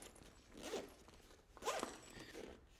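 A zipper drawn closed on the top of a Nelson Rigg motorcycle tank bag for a DR-Z 400, two quick close zipping strokes and a fainter third, nearby and alone.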